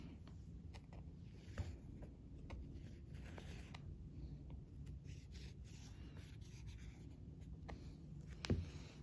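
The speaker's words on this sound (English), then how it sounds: "I'll go ahead and draw that on with this marker." A marker scratches and rubs across quilt fabric in short quiet strokes, soft scraping close up with a couple of faint knocks, no talking.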